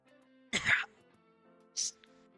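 A person coughs twice, close up and loud: first a rough, harsh cough, then a shorter, sharper one after a brief pause, both against a quiet background hum.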